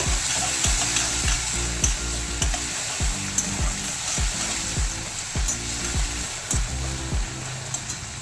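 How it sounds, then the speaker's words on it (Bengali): Chopped onions sizzle in mustard oil over whole cinnamon, cardamom and cloves, a steady close frying hiss broken by regular rhythmic scrapes of a spatula stirring the pan, with no voices. "পেঁয়াজটাকে আমি একটু ভাজা ভাজা করে নেব।"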